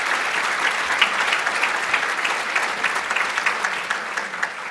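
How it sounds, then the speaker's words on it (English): Conference audience applauding for an event organizer, loud and close, with a thick steady patter of many hands and a few sharper claps standing out throughout. "let's give a round of applause for Crystal"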